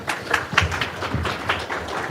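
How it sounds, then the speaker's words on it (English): An audience claps for a volunteer named Fran at a lunch-and-learn talk, steady moderate applause from a small crowd lasting a couple of seconds. "Let's give Fran a round of applause."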